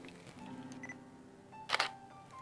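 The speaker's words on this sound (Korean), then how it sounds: "자, 사진을 촬영하였는데요." A camera shutter fires once with a speedlight, a Nikon SB-910 or Godox V1/V860 flash, shot in A mode at f2.8, ISO 100 and a 1/20 second exposure: a sharp, close double click, crisp and brief, over quiet room tone.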